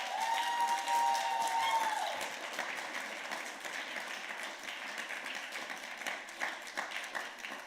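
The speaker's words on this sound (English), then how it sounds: "give a massive round of applause to Envoy Church" An audience at a UK career and entrepreneurship summit breaks into sustained applause, a dense wash of many hands clapping that stays steady after a brief tone at the start, fairly close and full with scattered cheers.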